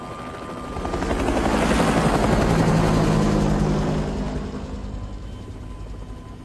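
An aircraft, apparently a helicopter, lifts off in a film or game scene with a steady rotor-and-engine roar that swells to a loud peak mid-clip and then eases slightly, with no voices.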